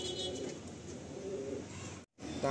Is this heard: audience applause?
no